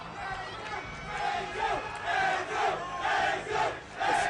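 Tournament crowd at a Super Smash Bros. Melee match roaring and chanting in surging waves, loud and sustained, with repeated swells of cheering from a packed hall.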